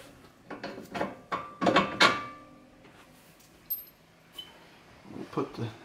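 A car on an Infiniti Q50 being lowered during a BC Racing coilover installation, giving a few close mechanical clunks and ratcheting knocks in short clusters, with quiet pauses between.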